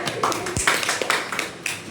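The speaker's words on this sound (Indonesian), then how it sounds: "Oke, tepuk tangan untuk Elia." Children clapping in a classroom during a microteaching lesson, a short irregular burst of claps and taps with a few voices mixed in.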